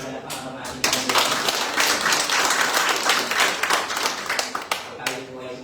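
A church congregation breaks into loud, sustained clapping at a worship service, the dense applause swelling suddenly and holding steady for several seconds before tapering off, with a voice speaking briefly at the start and end.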